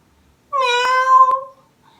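A single clear cat meow, close and fairly loud, rises and holds briefly before fading, heard alone against silence as a sound effect in an animated story.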